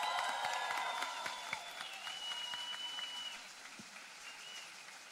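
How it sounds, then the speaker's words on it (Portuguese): Crowd applause at a citizens' conference in São Paulo as two guests are called to the stage, a faint, distant clapping texture with cheering or whistling tones gliding above it. "Uma salva de palmas."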